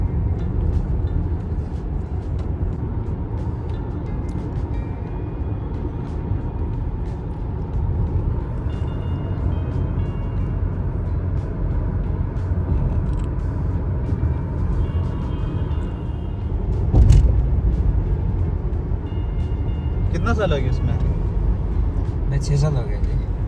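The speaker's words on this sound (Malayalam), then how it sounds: "എപ്പോഴും ട്രാഫിക്കാണ്" Busy road traffic in Musaffah, Abu Dhabi, heard from inside a moving car: a constant low road rumble with a brief louder whoosh partway through, while people talk over it.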